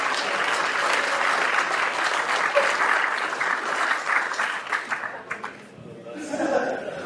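A bootcamp audience gives volunteers a round of applause, loud dense clapping from a large crowd that holds steady, then thins into scattered claps and fades, with faint chuckles and murmuring voices rising at the end.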